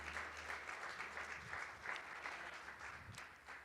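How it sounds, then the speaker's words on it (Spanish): A church congregation claps together during a sermon, a fairly distant and quiet wash of steady applause with a few louder individual claps standing out. "puedes aplaudir a eso"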